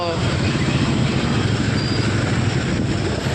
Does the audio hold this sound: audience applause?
no